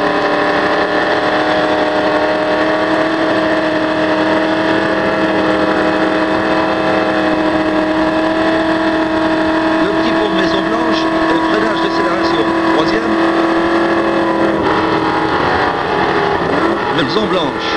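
A Ford GT 12-cylinder race car heard onboard on a lap at Le Mans, its engine droning at a steady high pitch close up for the whole stretch, with a slight change in tone near the end.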